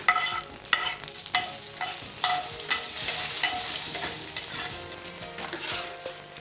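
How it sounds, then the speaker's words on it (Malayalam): Curry leaves sizzle and crackle in hot oil in a pan while being stirred, with a steady frying hiss and a few sharp scraping clinks of the spoon, close and alone, with no talking. "കറിവേപ്പില ചേർത്ത് ഇളക്കുക."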